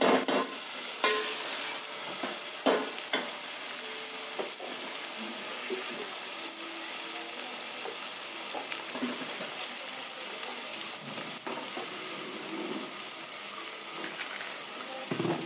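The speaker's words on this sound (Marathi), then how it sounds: "कांदा लाल होऊन भाजून घेऊन" Onions frying in a pan until browned, a steady soft sizzle with occasional stirring clatters, moderately close and without talk.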